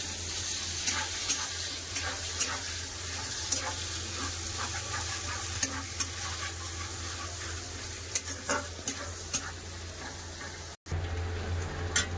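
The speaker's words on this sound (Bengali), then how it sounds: "পেঁয়াজটাকে ভালো করে লাল করে ভেজে নেবো।" Chopped onions with black cumin sizzle steadily in hot oil in a pan, a continuous close frying hiss with occasional stirring clicks and scrapes, briefly cut near the end.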